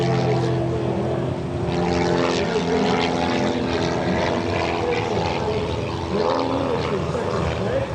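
A propeller airplane's engine runs steadily with a loud, continuous droning hum and a constant pitch across the whole stretch, close and filling the sound.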